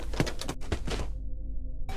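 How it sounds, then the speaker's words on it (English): The Pumpkin Spider creature in a video game knocks, a quick run of several muffled, hollow thuds in the first second, followed by near silence and a low hum. "And then I hear the knock of Pumpkin Spider"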